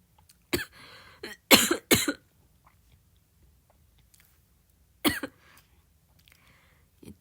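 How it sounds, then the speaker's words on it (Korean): A person coughs in a quiet room: a single sharp cough, then a cluster of two or three harsher coughs, and one more after a pause, each one close and fairly loud. "기침하게 만드네."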